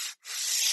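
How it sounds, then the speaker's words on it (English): Sandpaper rubs across the wood of a fretless bass neck in two close, brisk strokes, a short hissy scrape followed by a longer one, with no talking. "sorry for the sanding noises."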